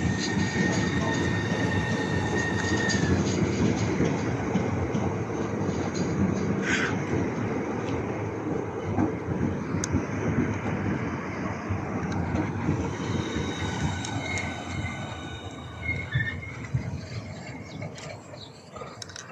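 Trains at Dover Priory station, with Southeast and Class 35 services, rumble steadily throughout, a dense continuous rolling and mechanical clatter with occasional squeals and high whines, fairly close and loud.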